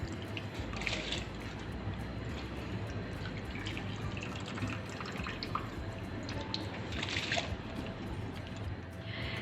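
Soaked, drained sela rice is poured into a pot for degi mutton biryani, a steady wet rushing and pattering with a few brighter splashy bursts, fairly close and without talk.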